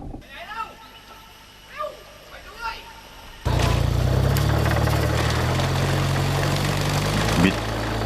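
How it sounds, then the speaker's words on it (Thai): A boat engine revs to push a floating raft house toward a riverbank in Thailand. A voice talks over quiet background at first, then the engine abruptly roars in, loud and steady with a deep droning hum. "กำลังเร่งเครื่องยนต์ดันแพล่องไปชนตลิ่ง"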